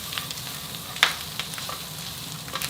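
Garlic sizzles softly in a non-stick pan, a faint steady crackle with occasional small pops and one sharper spike, no voices.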